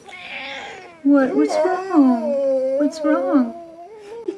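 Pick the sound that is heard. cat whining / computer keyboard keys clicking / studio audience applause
cat whining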